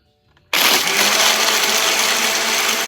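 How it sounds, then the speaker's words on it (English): A blender starts abruptly and runs loud and steady for a couple of seconds, its whirring blades grinding ice for a homemade pumpkin spice frappuccino. "Now we're going to blend it for about a couple of seconds."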